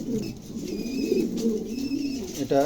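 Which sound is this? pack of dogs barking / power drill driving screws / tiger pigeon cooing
tiger pigeon cooing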